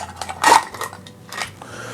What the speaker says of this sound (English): So I'm going to add some ice to our shaker.